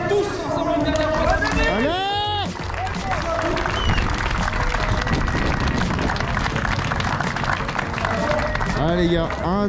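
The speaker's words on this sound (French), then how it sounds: "Allez, on peut les applaudir tous ensemble une dernière fois." Crowd at a drift event applauding steadily throughout, clapping and cheering blended with a speaking voice and occasional revving engines.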